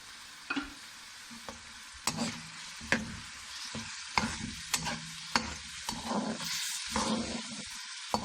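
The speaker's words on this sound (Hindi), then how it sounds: "अब इसको तेल डालकर थोड़ा फ्राई कर लेंगे।" Minced meat frying in mustard oil in a pan, with steady sizzling and repeated stirring clatters of a spoon against the pan.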